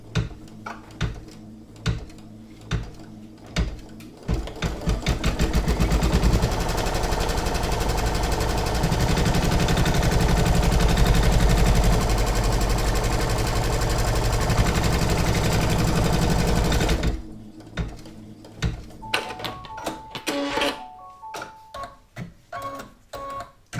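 An embroidery machine stitches the placement line for an in-the-hoop coaster's top panel, a fast loud mechanical rattle running about ten seconds, framed by sparse clicks and ticks of the machine starting and stopping.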